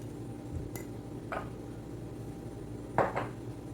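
Henna paste for hair is stirred in a bowl, producing a few soft, scattered scraping clinks of a utensil against the bowl over a low background hum, faint and close.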